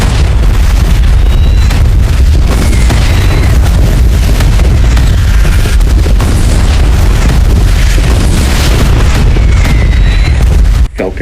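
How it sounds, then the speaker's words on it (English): Heavy artillery bombardment rumbles without pause, like the shelling of the Verdun sector, with loud overlapping booms and explosions forming a dense, continuous barrage that cuts off abruptly at the end. "up with the heaviest artillery bombardment the world had ever seen"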